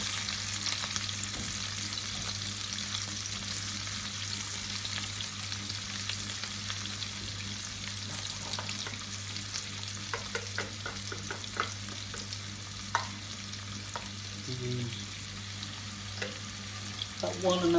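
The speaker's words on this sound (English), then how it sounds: "So we'll start popping now, so I'm going to add my onions in there." Onions and pepper fry in a pan for a keema rice dish, a steady, hissing sizzle with scattered crackles and pops that grow busier toward the end, with a few stirring scrapes.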